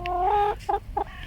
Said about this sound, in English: Let's go and see the chickens.